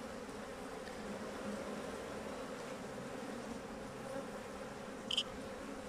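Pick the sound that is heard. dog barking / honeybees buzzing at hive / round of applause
honeybees buzzing at hive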